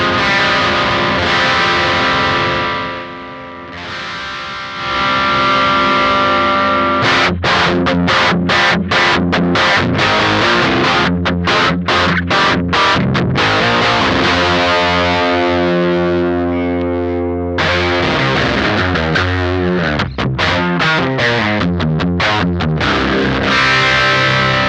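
Electric guitar played through an Electrojunk Cross//Dissolve drive pedal, distorted and dense, with ringing sustained chords and bursts of fast choppy riffing across the passage, loud and close with no talking.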